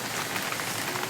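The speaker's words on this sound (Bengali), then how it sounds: "বৃষ্টি হচ্ছে, বৃষ্টি" Steady rain falls close by, a dense, even hiss of drops hitting a surface that lasts the whole moment without any voices.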